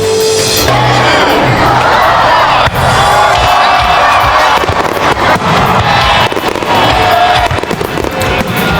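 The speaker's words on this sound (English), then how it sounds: "there was a fireworks show, some of the fireworks exploding" A Fourth of July fireworks show bursts in a loud, crackling barrage of repeated explosions, with crowd cheering and whoops mixed in over a continuous roar.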